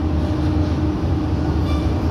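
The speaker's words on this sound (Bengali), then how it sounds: "ঝড়ের গতিবেগে আমাদের ট্রেন ক্রস করছে পলতা" An AC EMU local train on the Sealdah–Kalyani line speeds through Palta station, heard from on board as a loud, steady rumble and rush of wheels and wind with no break.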